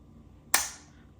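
A Watchtower Apache gun's trigger is pulled against a trigger pull gauge, giving a single sharp, crisp snap of the breaking trigger in a quiet room.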